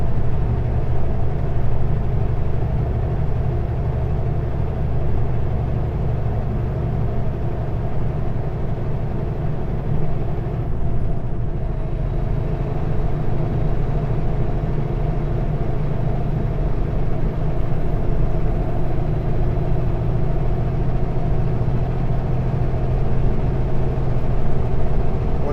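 Trucks sit idling at a highway chain-up area in winter, lined up in a long row, a constant low engine drone and rumble filling the air steadily with no talk.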